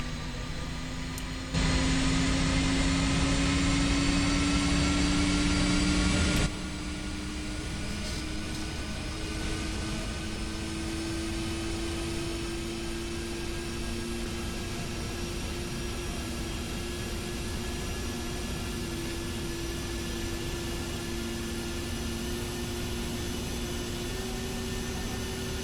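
An F-104 jet engine spools up in the DCS flight simulator, a loud steady turbine whine with rising tonal lines over a broad roar that continues for the whole stretch, with no talking.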